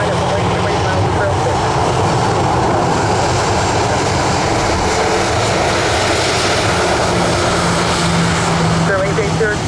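An airliner takes off at Orlando International Airport, a loud, continuous broadband jet roar filling the whole stretch with no break.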